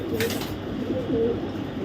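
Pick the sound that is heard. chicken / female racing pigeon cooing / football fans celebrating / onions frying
female racing pigeon cooing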